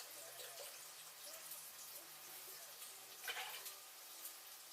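Vegetable broth pours from a carton into a soup pot, a soft, steady liquid splash and trickle lasting a few seconds with a brief louder gush near the end, fairly quiet and without talking.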